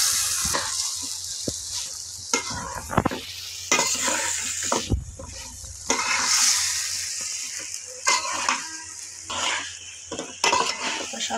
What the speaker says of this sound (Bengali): এখন আমি দিয়ে দিব ভেজে রাখা মাংসগুলো